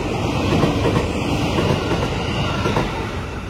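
A train on an Indonesian railway rolls into a station steadily, a continuous loud rumble with rhythmic wheel clatter that eases slightly toward the end, heard up close with no voices.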